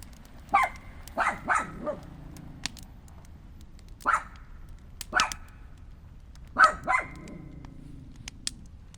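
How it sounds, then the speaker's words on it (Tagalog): A dog barks in short bursts of several sharp barks with pauses between them, close by at a lakeside campsite beside a campfire in Canada. "Paano ka naman marirelax sa sound ng campfire kung may tahol ng tahol sa tabi mo?"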